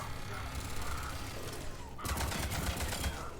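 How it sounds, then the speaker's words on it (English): Turret gunfire in Mass Effect 3, a rapid rattling burst of shots that grows sharper and denser partway through, over a low game background rumble. "I hear a turret."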